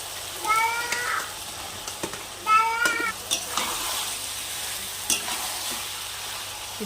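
Marinated soybean chunks fry with spices in a pan, giving a steady sizzle with stirring clatter of a utensil against the pan. A cat meows a few times nearby over the cooking.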